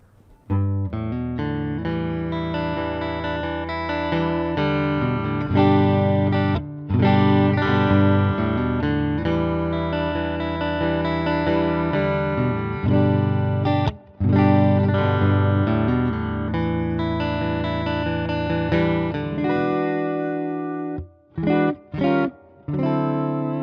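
A crunchy, overdriven electric guitar, a PRS SE Special Semi Hollow through a Mesa Boogie amp's crunch channel, plays chords and single notes continuously with a touch of reverb, cutting out briefly near the end.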